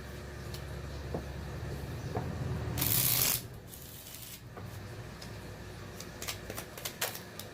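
Tarot cards being shuffled to draw clarifiers in a quiet room: one loud, close riffling burst lasting under a second, with faint soft handling sounds before and after.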